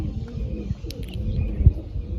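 Pigeons coo with soft, low, throaty murmurs over a couple of seconds, close by, with a brief higher chirp in the background.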